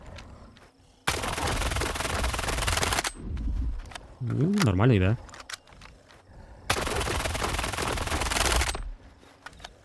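Two long sustained bursts of rapid automatic rifle fire in STALKER 2, loud and continuous, separated by a brief spoken remark and a short electronic tone.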